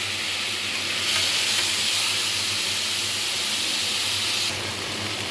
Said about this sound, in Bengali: এবার দিয়ে দেব লঙ্কা বাটা এবং আদা বাটা।